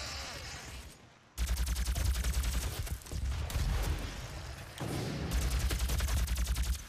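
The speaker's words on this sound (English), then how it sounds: "Shooting all over the place." Sustained heavy gunfire in DOOM, continuous rapid automatic shooting that drops briefly and resumes in loud dense stretches, with a short lull near the start.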